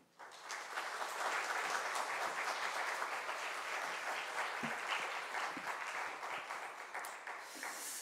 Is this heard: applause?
yes